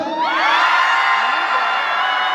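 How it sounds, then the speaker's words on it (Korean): Concert audience in Los Angeles roaring and whooping in one loud sustained burst of cheers and shouts that fills the space. "미국 내 LA 말고 다른 도시에서 오신 분 함성"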